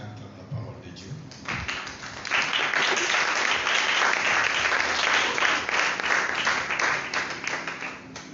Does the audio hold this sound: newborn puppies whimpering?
no